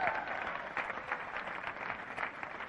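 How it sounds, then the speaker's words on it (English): A crowd applauds with dense, steady clapping that carries on throughout, moderately distant and fairly quiet. "Give a round of applause."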